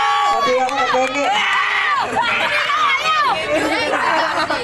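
Shouting from the team benches at a summer league basketball game, mixed into steady crowd chatter and babble with loud voices rising and falling throughout.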